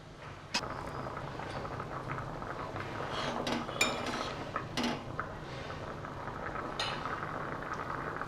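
Steady bubbling of a pot of water at a rolling boil with gram-flour dumplings (gatte) cooking, with occasional clinks and light metallic taps over the continuous churn.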